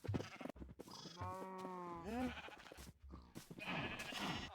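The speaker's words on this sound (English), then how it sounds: "I move the sheep safely inside the farm" Sheep bleat in the Minecraft video game: one clear, wavering bleat in the middle, framed by shorter bleats and rustling game sounds, close and moderately loud with no voices.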